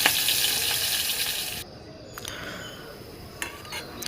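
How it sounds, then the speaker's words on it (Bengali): Chopped onions fry in a pan with a loud, steady sizzle that cuts off abruptly after about a second and a half, leaving a quiet stretch with a few faint clinks. "পেঁয়াজটা ভালো করে ছাঁকতে নেবো মানে ভেজে নেবো একটু ভালো করে"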